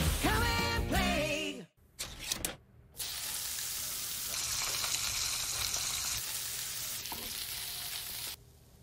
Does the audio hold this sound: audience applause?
no